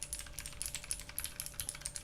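Clicky blue-switch mechanical typing on a custom U60 keyboard, a steady stream of sharp, close keystrokes with bright crisp clacks and no voices.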